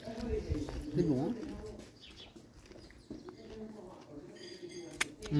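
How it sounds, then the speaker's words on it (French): Small birds, including pigeon- or dove-like coos, gather near a picnic in Rodalquilar, Spain, hoping for bread crumbs. Faint calls and chirps sit under nearby people talking. "Oh, il y a plein de petits oiseaux."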